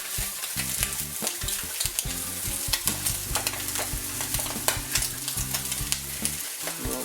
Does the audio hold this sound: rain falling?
no